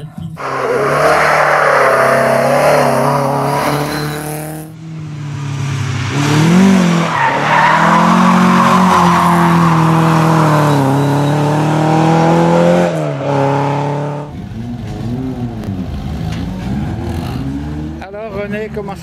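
An Alpine race car at a historic hill climb roars hard under acceleration, the engine note rising and falling through gear changes with tire noise, loud and close for most of the stretch.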